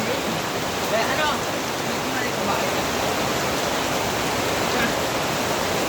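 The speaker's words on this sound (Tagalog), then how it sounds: "Grabe guys, sobrang lakas ng ulan." A heavy downpour at sea, with a loud, dense and unbroken hiss of rain that stays even from start to finish.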